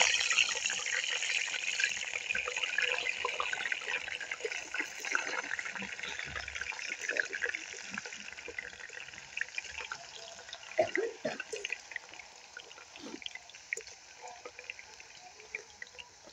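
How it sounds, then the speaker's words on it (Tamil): Potato slices for homemade potato chips fry in hot oil, giving a continuous bright sizzling hiss that gradually thins into scattered crackles and pops. "கொதிச்சுட்டு நாங்கள் உருளைக்கிழங்கு சேர்க்க போகிறோம்."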